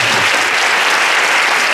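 Dense, steady applause from a concert audience honouring a performer and composer, loud and close, filling the whole stretch without a break and with no talk over it.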